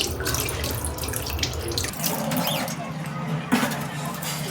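Tap water runs steadily into a kitchen sink for washing during cooking prep, a close and loud splashing rush that thins out partway through and ends with a brief clatter.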